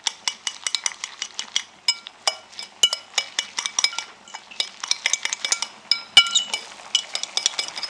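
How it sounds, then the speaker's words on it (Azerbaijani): Eggs are mixed with chopped greens in a bowl, a rapid irregular series of light clinks and taps of a utensil against the bowl, close and distinct, with no talk. "Yumurtanı göyərti ilə birlikdə qarışdırıram."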